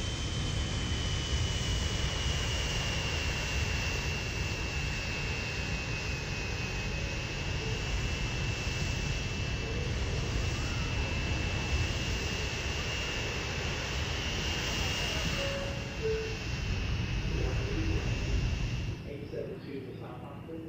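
A new airplane in Transport Fever gives a steady, loud jet-engine drone with a sustained high whine that holds for about twenty seconds before dropping off at the end.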